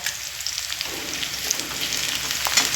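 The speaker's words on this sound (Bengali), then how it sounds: "পেঁয়াজ আর রসুন দু থেকে তিন মিনিট মতো মিডিয়াম ফ্লেমে ভাজা করে নিয়েছি" Onion, garlic and ginger paste frying in a pan over a medium flame make a steady, close, crackling sizzle that holds at an even level throughout, with no talking.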